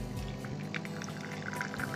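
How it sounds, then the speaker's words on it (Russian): Black coffee pours into a cup in a short, steady stream, with a close, liquid trickle and splash lasting about two seconds and no talking. "наливаю себе черный кофе"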